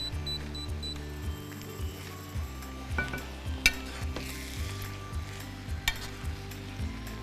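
Mushroom spaghetti is stirred in a hot pan on the stove, with a steady close sizzle and fry hiss under irregular scraping and light clinks of a utensil against the pan.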